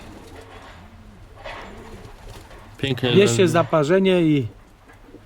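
Racing pigeons in a loft coo softly in low, rolling calls, followed by someone speaking loudly over them.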